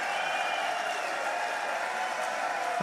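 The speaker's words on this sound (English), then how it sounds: "is this his company cheering for him?" Shareholders at a Tesla stockholder meeting cheer and applaud in a steady, dense wash of clapping and crowd noise that holds evenly throughout, heard from a distance without pauses.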